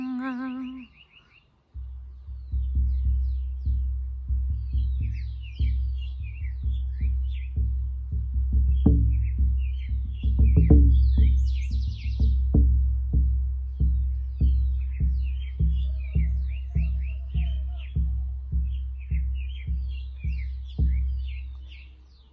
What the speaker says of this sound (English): I feel blessed to have the symphony of birds accompanying my sharing.